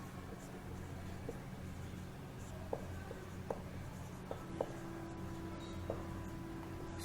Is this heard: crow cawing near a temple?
no